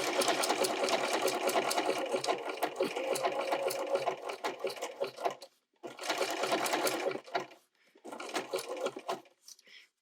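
A sewing machine stitches a fabric appliqué tree in bursts: a long steady run of rapid needle strokes, then two shorter runs separated by brief pauses, close and loud.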